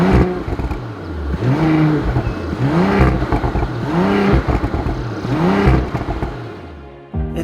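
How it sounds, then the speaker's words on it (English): An Audi RS5 engine is heard while driving on Alpine climbs, rising and falling in repeated revving surges through gear changes, fairly loud and close with no voices. "When it comes to the sound, the new RS5 doesn't sound bad,"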